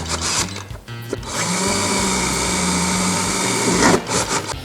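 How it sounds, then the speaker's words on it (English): Power drill boring mounting holes for marine electronics units on a boat, a loud continuous whine that holds steady for about three seconds after brief starts and rattles, then winds down, close by with no talk. "now all I got to do is remove the units, drill the back holes"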